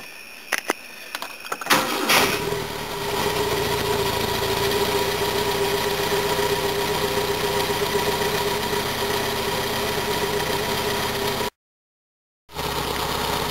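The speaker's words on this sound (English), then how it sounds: "Now I'm going to try and warm this Volvo up just a bit now." A Volvo car engine cranks briefly, catches and settles into a steady, close idle as it warms up, with a short gap of silence near the end before the running engine returns.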